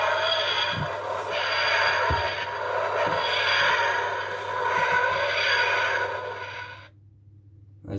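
Electronic second Doctor TARDIS toy playing its faster effect, a pulsing wheezing electronic whoosh that swells and fades in repeated waves over a steady hum, then cuts off near the end.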